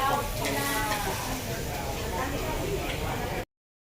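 Food sizzling on a Korean barbecue grill at a buffet, a steady crackling hiss with occasional clinks of utensils, heard under people talking nearby until it cuts off abruptly.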